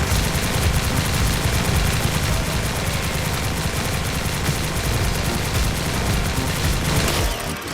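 The GS-3305 weapon in the Roblox game Beast Force fires rapid attacks in an unbroken, dense stream of fast shots, loud and steady throughout before cutting off at the very end.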